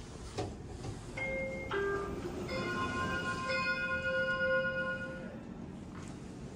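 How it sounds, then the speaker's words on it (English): A Schindler 5500 traction elevator in a hydroelectric building sounds its down chime: a series of clear, sustained bell-like tones stepping in one after another and ringing together, heard alone over a low room hum. "listen to the down chime."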